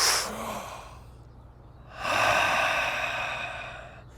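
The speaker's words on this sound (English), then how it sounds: "give you a demonstration, first focusing on the pursed lip inhale" Pursed-lip inhale during a guided fountain breath exercise, a close airy breath that fades, pauses briefly, then swells into a longer louder hiss.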